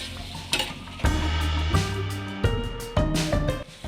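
Tomatoes with curry leaves fry in a pan while being stirred, giving a steady sizzle broken by repeated scraping strokes and soft clinks of a utensil against the pan, close and alone.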